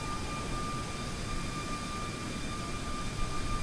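Boeing 737 MAX airliner jet engines climbing out in a flight simulator, a steady broadband roar with a thin whine on top, continuous and even, with no talking.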